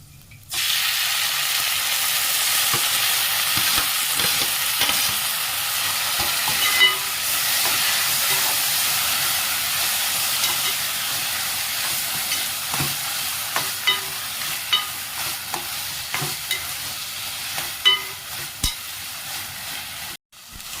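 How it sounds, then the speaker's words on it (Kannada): Loud, continuous sizzling of mashed eggplant frying in hot oil tempering, with scattered clicks of stirring and a steady hiss throughout. "ಸ್ಮ್ಯಾಶ್ ಮಾಡಿರೋ ಬಜ್ಜಿನ ನಾನು ಒಗ್ಗರಣೆಗೆ ಸೇರಿಸ್ಕೊಳ್ತಿದ್ದೀನಿ"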